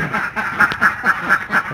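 Alabio ducks, including laying hens, quacking in a steady run of nasal calls, loud and close, about six repeated quacks with no talk over them.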